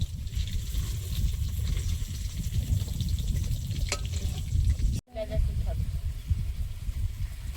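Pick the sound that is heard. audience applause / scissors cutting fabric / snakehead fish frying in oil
snakehead fish frying in oil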